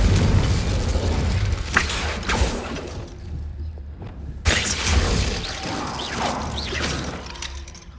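Confringo and Incendio spells go off in Hogwarts Legacy, loud crackling impacts with shattering bursts, a short lull, then another blast followed by lingering debris and rumble.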